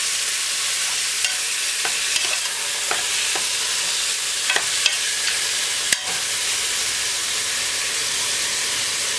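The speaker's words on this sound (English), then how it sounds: "Immediately add the seasoning, the chopped onions, scallion, the garlic, and the ginger." Chopped onions, scallion, garlic and ginger fry in hot oil with a steady, dense sizzle and hiss, broken by a few faint clicks and stirring taps, close up with no voices.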